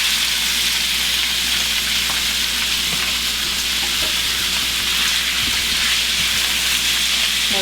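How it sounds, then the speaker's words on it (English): Steak meat sears in olive and sesame oil in a skillet over medium-high heat for a Philly cheesesteak dish, a loud, dense, continuous sizzle with scattered pops and stirring sounds, close up and without talk. "I'm gonna heat that on medium-high heat and put in my meat."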